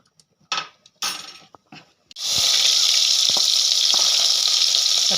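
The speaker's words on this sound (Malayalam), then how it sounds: "എണ്ണ ചൂടായിട്ടുണ്ട്, നമുക്ക് കടുക് ഇട്ട് കൊടുക്കാം." Mustard seeds hit hot oil in a kadai while a Kerala-style crab roast is being cooked: a few scattered clinks and taps first, then a sudden, loud, continuous crackling sizzle with sharp pops.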